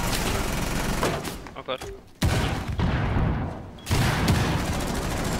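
Explosions from Fuse's cluster charge in Rainbow Six Siege, a burst of rapid cracks and blasts that breaks off briefly and resumes, with a voice speaking over them.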